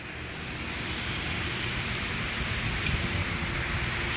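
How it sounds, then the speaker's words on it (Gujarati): Heavy monsoon rain pours down in Vapi Bhilad near a temple and a lake, a dense, steady wash of rainfall hiss that holds evenly throughout with no voices. "જો દોસ્તો વરસાદ પડે છે ને"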